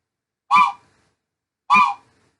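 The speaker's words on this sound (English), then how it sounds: "the engineer is starting to back his train up. He'll give 3 short bursts." Train horn backing-up signal heard as two short, separate honks, each sharp, reedy and close, with about a second of silence between them.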